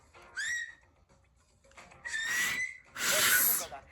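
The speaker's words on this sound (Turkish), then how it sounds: "Bu videoda hem iki hem tek elle ıslık çalmayı öğrendim." Three sharp, shrill finger whistles, each a loud piercing tone with a short pause between, the last the longest and most intense.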